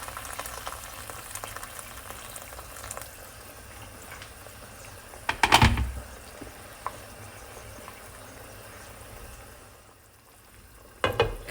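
Boiling water poured into a pan of Chinese New Year dumplings, a steady frying sizzle that swells into a loud hissing burst midway, settles and dies down, then flares briefly again at the end.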